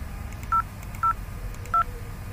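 Three short DTMF keypad tones dialing extension 2002 on a VoIP phone, evenly spaced beeps, clear and alone over a faint low hum.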